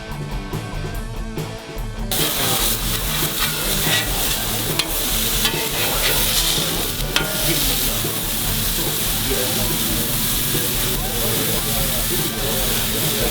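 Turkey smash burgers sizzle loudly on a flat top grill, a dense, steady hiss and crackle that swells up after a quieter first two seconds and holds close and continuous throughout.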